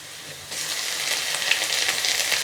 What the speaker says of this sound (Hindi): अदरक लहसुन के पेस्ट को 30 सेकंड तक फ्राई कर लेते हैं।